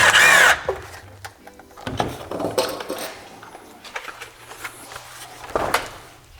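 A power tool whirs in short bursts while unbolting the tail light of an R34 Nissan Skyline being converted from GTT to GTR, with clinks of tools and parts between runs, close up and with no talking.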